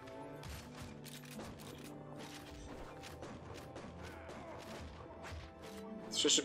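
Rapid gunfire in the video game Shank comes as a quick series of sharp, faint shots and impacts mixed with game effects, swelling to a louder burst at the end.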